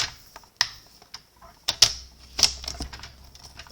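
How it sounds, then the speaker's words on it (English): A paper trimmer cuts the end off a card, a series of sharp clicks and short scraping slides as the blade runs along, irregular and close, with quiet gaps between. "I'm also going to trim off the end"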